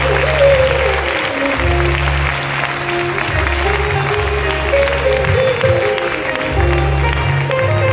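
Crowd clapping to welcome a guru at a spiritual gathering, a broad continuous roll of applause over a looping low musical drone, with no voices standing out.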